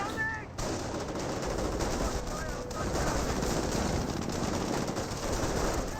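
Dense, continuous gunfire and machine-gun bursts from the World War II strategy game Company of Heroes, with US forces against Panzer Elite, mixed with battlefield noise under faint voice sounds.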